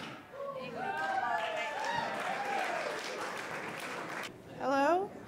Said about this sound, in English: Get a big round of applause up to the microphone